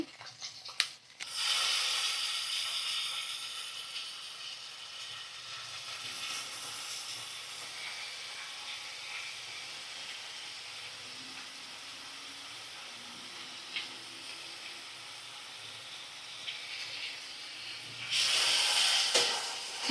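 Sour yogurt hits a hot pan of frying ginger-garlic and cumin paste, setting off a steady, close sizzling hiss that fades slowly, with a sharper burst near the start and another at the end.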